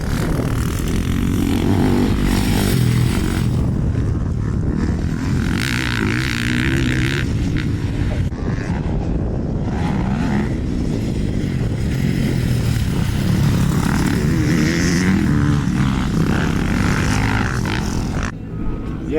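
A Beta 450 RX off-road motorcycle revs and pulls hard on a ride, its engine roaring loud and close with repeated rising and falling throttle blips throughout, and no talk.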